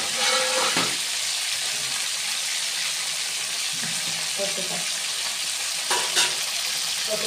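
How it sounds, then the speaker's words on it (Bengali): Keski fish fritters wrapped in pumpkin leaves fry steadily in hot oil, a continuous dense sizzle with a few brief bursts of crackle and light clinks from a utensil. "আমরা একে একে আমাদের 4টা বড়া রেডি করে দিয়ে দিয়েছি তেলের মধ্যে।"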